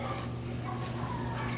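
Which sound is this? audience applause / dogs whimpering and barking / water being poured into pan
dogs whimpering and barking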